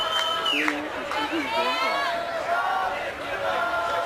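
A rugby crowd at a Glendale versus Belmont Shore match jeers and shouts at a kicker lining up a sideline conversion, a loud continuous roar of many voices with rising calls.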